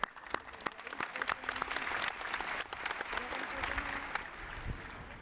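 A high school graduation audience applauds a student publication's recognition, producing steady, moderately loud clapping from many hands with a few crisp nearby claps and faint voices mixed in.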